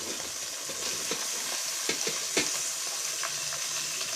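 Tomatoes drop into a sizzling fish curry in a pan, giving a constant close hiss dotted with small pops and stirring clicks. No voices are heard.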